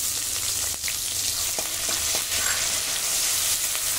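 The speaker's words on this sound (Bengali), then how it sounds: "আদা কাঁচা লঙ্কা একটু ভালো করে ভেজে নেব।" Chopped ginger and green chilli frying in hot oil with cumin seed tempering, a steady broad sizzle with a few soft stirring clicks, close and continuous, no talking.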